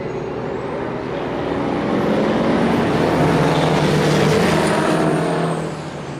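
Big rig semi trucks racing in a main event at a stadium speedway, engines roaring as a pack passes close, swelling louder in the middle and then fading slightly.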